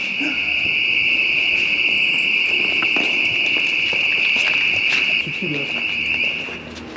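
A shrill, steady electronic alarm tone rings continuously at constant loudness in an indoor stairwell in Turkey, fading slightly near the end, while several people talk and move around over it.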